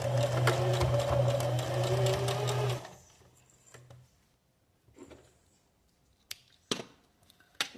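A sewing machine stitches a zipper onto a fabric pouch, running in a steady fast whir for about three seconds. It then stops, leaving near silence broken by a few light clicks and handling taps.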